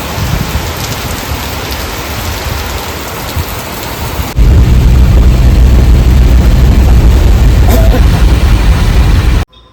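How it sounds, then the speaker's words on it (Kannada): Heavy monsoon rain pours steadily in Karwar, flooding the road, then grows louder and denser halfway through, a constant hissing downpour with a faint rumble beneath. "ಬೆಳಗ್ಗೆ ಎದ್ದು ನೋಡಿದ್ರೆ ಫುಲ್ಲು ಮಳೆ."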